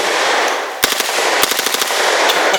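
A select-fire firearm shooting on full auto outdoors at a watermelon, loud near bursts of rapid cracking shots over steady wind or background hiss, two main bursts plus a few scattered shots.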